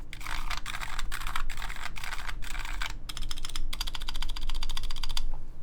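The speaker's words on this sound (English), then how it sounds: "The stabilized keys sound pretty good." Rapid typing on a Blue Ridge EC mechanical keyboard, close and clear, first in bursts of clacking keystrokes and then in a dense, fast rattling run, with a low steady hum beneath.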